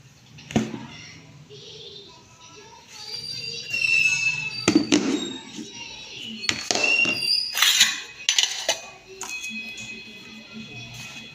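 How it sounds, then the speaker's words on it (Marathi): Dishes and utensils clatter and clink as they are scrubbed and stacked during washing up at home, with sharp metallic knocks and rattles coming in bursts while someone talks throughout. "आता भांडी वगैरे घासायचे खूप सारं राहिलेलं आहे"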